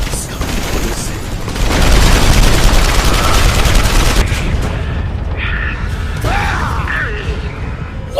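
A machine gun turret fires in the action game Marlow Briggs and the Mask of Death, a loud sustained rattle with booming impacts and mechanical clatter, easing into scattered effects near the end.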